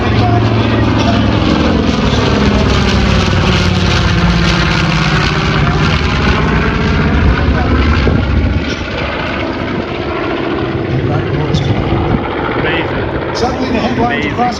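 A propeller aircraft flies aerobatic maneuvers, including an inside loop, at an air show in Lakeland, Florida. Its engine drones loud and steady throughout, its pitch rising and falling as it moves, and a commentator talks over it.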